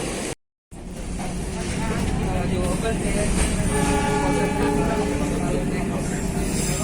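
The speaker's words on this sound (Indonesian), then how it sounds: "Menyilang kereta api Lodaya dari Solo Balapan tujuan Bandung." The Lodaya passenger train from Solo Balapan to Bandung passes close by on the adjacent track, a loud, sustained rail rumble and clatter filling the scene after a brief moment of silence.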